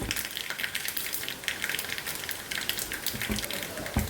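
Hot oil sizzles and crackles steadily, a busy frying hiss with occasional small pops, close by and without speech.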